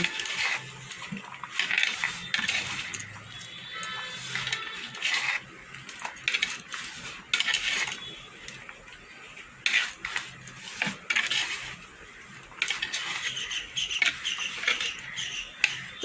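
A spoon stirs horse gram dal with turmeric in a metal pot, making repeated clinks, taps and scrapes against the sides in uneven bursts, close and moderately loud throughout.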